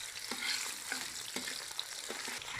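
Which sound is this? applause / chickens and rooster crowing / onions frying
onions frying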